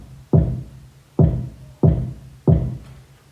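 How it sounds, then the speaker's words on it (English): A trap kick drum sample played four times in a steady rhythm; each hit is a punchy, low thump with a short decaying body, loud and dry with nothing else around it. "And this is the kick that I use from a trap part."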